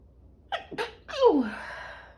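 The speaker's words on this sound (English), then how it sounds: "I'm going to sneeze, pardon me." A single close sneeze: two quick sharp inhalations followed by a forceful, voiced burst that trails off.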